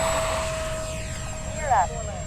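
A light aircraft engine at takeoff from Fritz Field, a steady droning hum with a constant high whine, heard close and loud from inside the cockpit, with a brief chirping sweep near the end.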